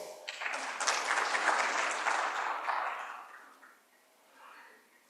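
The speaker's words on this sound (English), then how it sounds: "Please welcome him with a round of applause." A burst of audience applause at the IDC 2025 conference, where a Digital Ethiopia 2025 strategy presentation is about to begin. The clapping is dense and full, holds for a few seconds, then thins and fades, with a small swell near the end.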